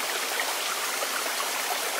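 A small waterfall rushes steadily nearby, an unbroken broadband hiss of falling water with no voices over it.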